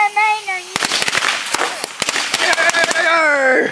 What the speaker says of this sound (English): Well, I'm glad you brought fireworks.